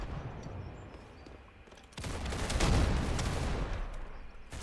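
Gunfire in the Roblox game Counter Blox, with a faint shot or two early on, then a sudden loud burst of rapid shots that sustains for a couple of seconds before another sharp crack at the end.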